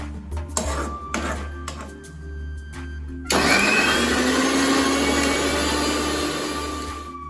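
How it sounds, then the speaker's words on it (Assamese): A mixer grinder kicks on partway through, blending a cooled paste for paneer butter masala with a loud, steady motor whir and rattling jar after some faint kitchen clatter. "এতিয়া আমি এইখিনি মিক্সাৰ গ্ৰাইণ্ডাৰত দি দিম।"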